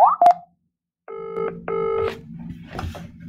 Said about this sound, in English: So I'm going to start by calling Luke Skywalker.